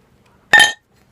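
A single bright glass clink rings out once while a corked Belgian quad beer bottle is being opened, short and fairly loud against near silence.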